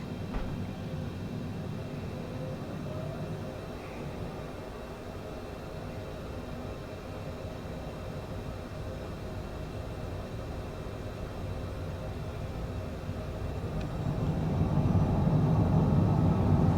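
A Cessna Citation CJ4 business jet in Microsoft Flight Simulator 2020 starts its takeoff roll: a steady, loud jet-engine roar and rumble holds evenly, then swells stronger near the end as power increases. No one speaks.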